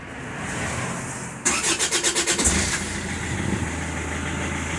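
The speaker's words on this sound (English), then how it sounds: "Let's start the car again and recheck it then." A car engine cranks with a rapid rhythmic whirring for about a second, then catches and settles into a steady idle, close by.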